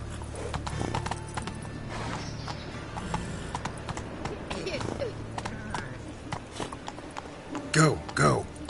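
Roach, the horse in The Witcher 3: Wild Hunt, gallops with a rapid, steady clip-clop of hooves, closing with a couple of loud whinnies, while a player talks over it.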